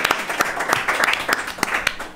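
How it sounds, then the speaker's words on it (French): A small audience at a French live role-playing show claps for a guest in the room, a brief burst of scattered, distinct hand claps close by. "Vous pouvez applaudir d'ailleurs Anne Kelly qui est juste là."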